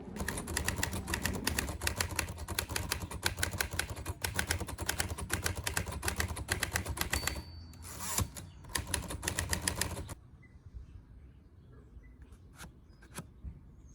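Paper fed into a typewriter, a rapid, close, continuous clatter of mechanical ratcheting and clicking that runs for several seconds, then a short pause, a brief burst, and a few sparse faint clicks.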